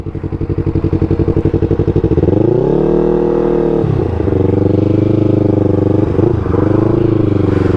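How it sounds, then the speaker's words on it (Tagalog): A Kawasaki ZX25R motorcycle engine idles with a rough, pulsing rumble, then revs up sharply and holds high, with two more quick throttle blips. It is loud and close. "Oh, nagsusubukan na ng motor"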